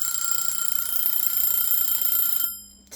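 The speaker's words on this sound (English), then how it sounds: "Timer's up." A kitchen timer goes off while blueberry pie filling is being canned, sounding a loud, steady electronic ringing tone that holds for a few seconds and then cuts off abruptly.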